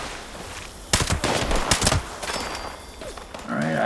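Gunfire bursts in Fallout 76, fired near enemies in a stealth commando build, with dense crackling volleys through the middle and quieter background noise around them.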